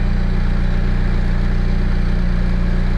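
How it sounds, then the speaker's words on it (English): A four-wheel vehicle lift raises a McLaren car with a steady, loud low hum and continuous mechanical drone, unbroken and close, with no talking. "And this is a 4-wheel lift. So everything should come up."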